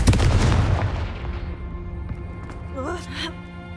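A Confringo explosion spell in the video game Hogwarts Legacy bursts with a loud, close boom at the start and rumbles away over a few seconds, followed by a brief gasp-like voice.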